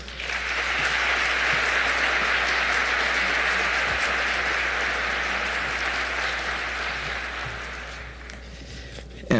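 An audience at a panel discussion on trafficking breaks into sustained, dense applause to welcome Mayor Turner. The clapping holds steady for several seconds and then gradually thins out.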